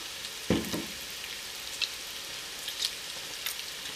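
Plain flour stirred into hot grease to make a roux sizzles and fries softly in a pan, with a spoon scraping and clicking against the pan a few times.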